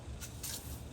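A faint hissing burst from a spray can aimed at a wasp nest behind a window screen, two short spurts over a steady noisy background.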